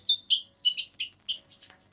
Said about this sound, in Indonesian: Habis ini saya mau dengerin suara burung dulu nih.